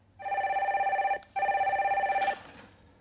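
A telephone rings on a radio call-in show: two long, loud ringing bursts with a brief gap between them, heard alone.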